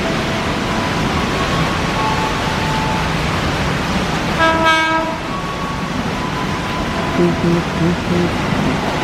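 A KRL commuter electric train rumbles at platform 3 of an Indonesian station with a steady roar, a short horn-like tone sounding midway, and faint talk in the background.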